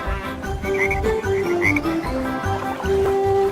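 A green speckled frog croaks in a rhythmic, steady chorus of throaty notes over continuous background music, moderately loud and close, with no speech.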